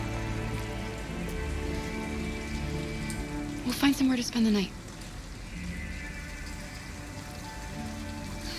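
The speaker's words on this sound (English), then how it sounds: "It's raining too." Steady rain falls in Detroit: Become Human, a constant patter across the scene while game characters speak over it.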